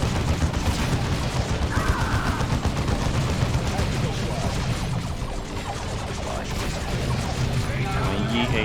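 Heavy gunfire and rocket launcher shots in the Dawn of War II campaign, a dense continuous barrage of rattling automatic fire and thudding blasts throughout, loud and close, with a voice faintly beneath the battle noise.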